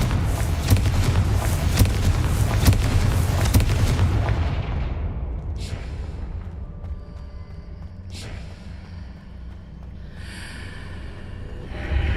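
A Confringo blasting spell exploding in the Hogwarts Legacy video game, a dense roaring blast with crackling debris that fades into a quieter magical hum with shimmering tones and a couple of soft whooshes, loud and close, no talking.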